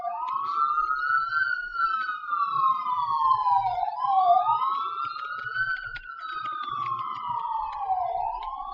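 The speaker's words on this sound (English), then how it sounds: "Sorry about the sirens." A police siren wails outside, its pitch sweeping slowly up and down in long continuous cycles, steady and moderately loud at a distance, with no voices.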